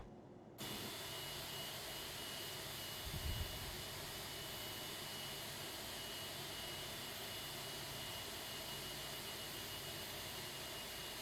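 Engine one of an Aerosoft A330 airliner in the Prepar3D flight simulator spools up and holds a steady, loud, broadband jet roar after a brief quiet start, with no one speaking.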